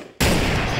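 A gunshot in Garry's Mod Trouble in Terrorist Town cracks loudly without warning after a quiet moment, its harsh blast filling the rest of the short moment.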